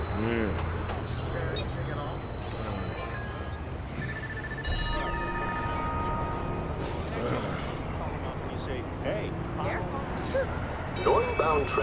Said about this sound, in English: Southbound train arriving shortly.